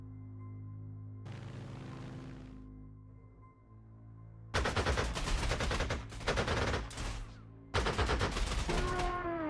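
Gunfire aimed at a Tupolev SB bomber in Panzer Corps 2, a short rattling volley, then after a pause several loud, dense machine-gun bursts in quick succession over a low hum.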